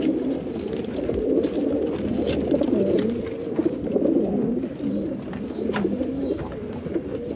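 Racing pigeons packed into baskets of 16 or 17 birds aboard a special train convoy keep up a dense, continuous chorus of cooing, steady and close throughout.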